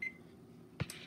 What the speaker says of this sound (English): So we set a timer for 16 minutes.